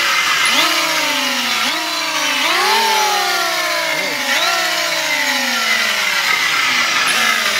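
The motor of a wood planer blade sharpening machine runs loud and steady, its whining pitch repeatedly swooping up and sagging as the load shifts, with no voices.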